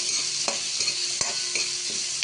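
Chopped carrots fry in a pan for veg pulao over lowered heat, a steady close sizzle broken by several sharp scrapes and taps of a spoon stirring at uneven intervals.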